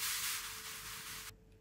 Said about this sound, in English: This white noise.